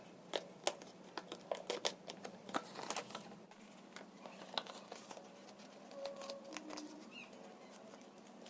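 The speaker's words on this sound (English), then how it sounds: "With my scissors in hand, I carefully followed the outlines of our craft design, trimming away the excess paper with patience and care." Paper being trimmed with handheld scissors while crafting a paper butter squishy, giving a steady run of close, quiet crisp snips and paper crinkles with no talking.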